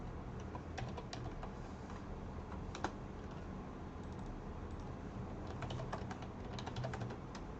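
Computer keyboard typing, scattered soft key clicks in short bursts over a steady background hum, fairly faint and with no talking.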